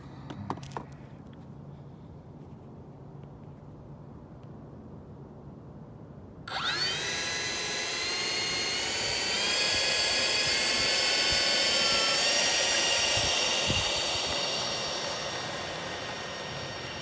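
A Freewing MiG-21 RC jet with an 80 mm ducted fan spooling up at night: a quiet stretch, then a sudden high whine that rises and holds loud and steady, easing slightly at the end.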